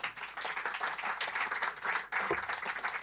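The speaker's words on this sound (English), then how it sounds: "another round of applause for them" An audience applauds the speakers at a timber construction event, steady dense clapping filling the room for about two seconds, a brief dip, then another burst of clapping.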